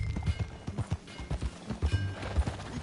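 Horse hooves clip-clop at a steady trotting rhythm in Red Dead Redemption 2, close and clear, with a brief whinny and no talking.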